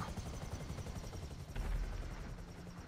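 A helicopter in GTA V online: continuous rotor thump and engine drone, steady and fairly close, with a brief swell partway through and no talk.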